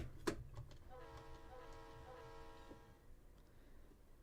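A diesel locomotive in a train simulator game, with a DPU pushing a huge train into a tunnel portal. A sharp clank opens, then a sustained horn-like tone holds for about two seconds and fades under low rumbling.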